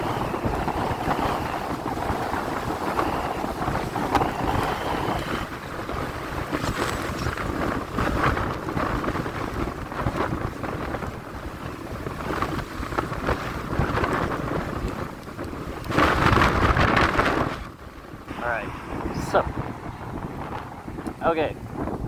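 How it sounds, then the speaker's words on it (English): Wind buffeting the microphone while riding a project motorcycle, loud gusty roar throughout with brief swells, and a voice speaking now and then beneath it. "Fucking windy."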